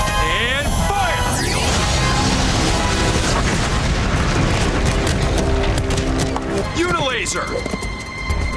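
Power Rangers Unilaser weapon fires in a dense, booming blast amid layered sci-fi effects and music, loud and sustained, with voices shouting over it.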